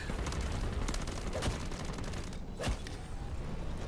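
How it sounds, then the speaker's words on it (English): A flamethrower fires in the Call of Duty Modern Warfare 3 Zombies mode as a steady, loud, dense roar with crackling bursts that lasts through the whole stretch. "I'm gonna show you the flamethrower now"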